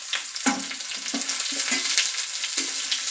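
Chopped onion and curry leaves sizzle in hot oil, a bright continuous crackle punctuated by several stirring knocks in the pan.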